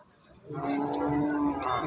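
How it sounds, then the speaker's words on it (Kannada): A Gir cow at the Nulvi cattle market gives a single drawn-out moo lasting over a second, close and fairly clear above faint market background. "ಹಸು ಇದೆ ಅಣ್ಣವ್ರು ತಂದಿದ್ದಾರೆ ಇಲ್ಲಿ ನೂಲಿ ಪ್ಯಾಟೆಯಲ್ಲಿ"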